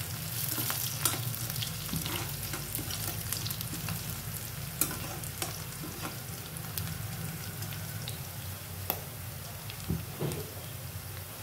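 Onions and dried red chillies fry in a pan for an aloo kurma, making a continuous close crackling sizzle with scattered sharp pops and light stirring scrapes throughout, alone without talk.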